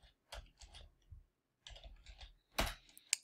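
Keystrokes on a computer keyboard while entering Python code come in short, separate bursts of quiet, close clicking, with pauses between and a sharper final tap.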